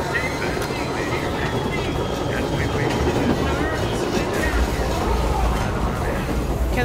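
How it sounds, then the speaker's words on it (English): Rumbling train noise from the Control video game fills the clip, a loud continuous low roar with faint rail clatter, and no one speaking over it. "Can the train be moved?"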